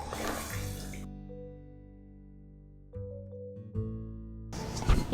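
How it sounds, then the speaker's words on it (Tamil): About a tumbler of water is poured into a pan of karuvattu kuzhambu, a dried-fish curry. A short splashing pour comes first, then a quiet tonal lull, then another brief burst of splashing. "இப்போ நம்ம இதில் 1 டம்ளர் தண்ணி, 1 டம்ளர் அளவு தண்ணி விட்டுக்கலாம்."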